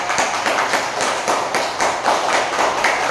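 A yoga class claps loudly in quick, even rhythm, a dense run of sharp bursts that carries on without a break.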